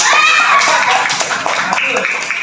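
Schoolchildren clap together in a classroom, a dense, busy patter of hands mixed with young voices and a teacher's speech over it.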